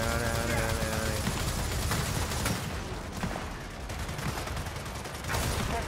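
Turret gunfire in the video game Gears of War 4 co-op campaign, loud sustained automatic bursts rattling continuously with game effects layered over it, a dense close barrage with no pauses.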